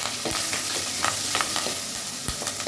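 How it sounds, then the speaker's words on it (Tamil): Onions sizzling and crackling steadily in a hot pan while cooking avarakkai sambar, with occasional scraping stirs, close and fairly loud. "பாருங்கள் ஆனியன் நல்லா ஃப்ரை ஆகிட்டுருக்கு"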